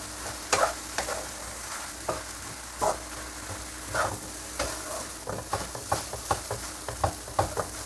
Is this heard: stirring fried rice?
yes